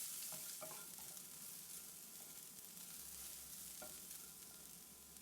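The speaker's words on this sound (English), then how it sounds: "we'll give it a quick stir." Cumin, fennel seeds, chopped garlic and ginger frying in oil in a pan, a soft continuous sizzle with a few light clinks and scrapes from stirring, quiet and close.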